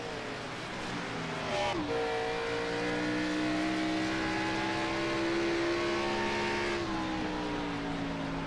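A race car in an Xfinity Series race at New Hampshire Motor Speedway holds a steady, loud engine drone, and its pitch drops sharply twice as it shifts gears.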